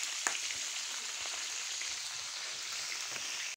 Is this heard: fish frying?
yes